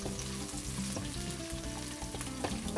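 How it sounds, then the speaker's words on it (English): Onions and garlic sizzle in a pan with a steady frying crackle, heard briefly under background music. "We're gonna get these onions and this garlic going."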